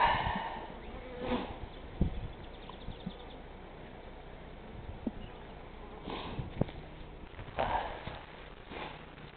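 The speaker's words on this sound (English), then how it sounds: "and these bees will clean it up." Dense, continuous buzzing of many Buckfast honey bees close by in an open hive, with occasional louder passes and faint knocks underneath.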